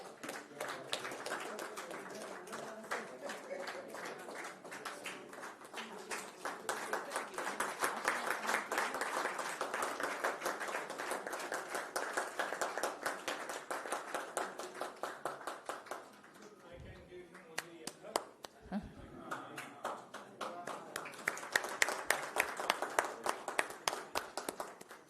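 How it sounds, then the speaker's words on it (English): Sustained audience applause fills a hall at a wellness conclave, dense clapping that swells, dips briefly near the two-thirds mark, then rises again loudly toward the end. "Let's give him a huge round of applause."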